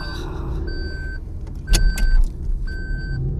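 A car's seat belt warning chime repeats in steady, sustained beeps inside the cabin, keeping on even after the belt is fastened, with a few clicks and rustles and an idling engine rumble underneath.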